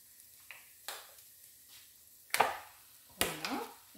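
Minced meat, 500 g of it, is dropped into a pan of vegetables for a potato and grated carrot gratin, giving a few soft thuds and wet scraping sounds spread over a few seconds with a quiet, close kitchen backdrop.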